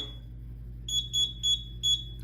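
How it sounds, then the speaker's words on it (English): A steady high electronic tone, then four short, evenly spaced beeps from a keypad, close and clear over a low hum. "it will stop beeping when you hit enter"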